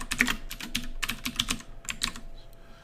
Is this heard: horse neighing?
no